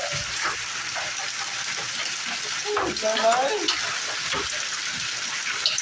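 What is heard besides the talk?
hail clattering on a concrete roof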